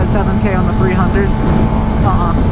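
A Suzuki GSX-R 600 motorcycle engine hums steadily while being ridden at light throttle, mixed with wind roar, and a rider talks over it.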